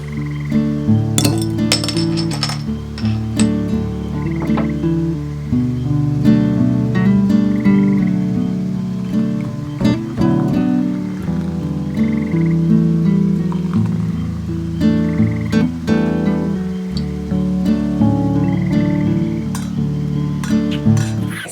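A dense chorus of frogs croaking near a road in Oregon, loud and continuous, with overlapping clinking calls that pulse irregularly throughout.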